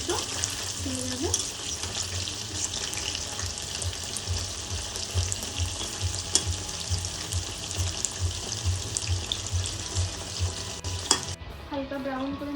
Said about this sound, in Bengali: হালকা ব্রাউন করে মাংসটা আমার ভাজা হয়ে গিয়েছে